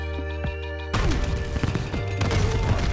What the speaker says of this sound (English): So, if I throw the cluster grenade down